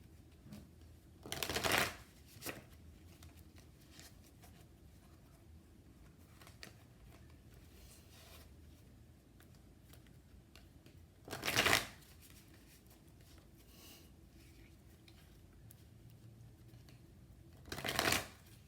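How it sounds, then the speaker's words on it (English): Tarot cards shuffled and drawn in three short riffling bursts spaced several seconds apart, close and fairly soft, with quiet pauses between and no talking. "Kind of have a feeling I'll be drawing quite a few cards from this."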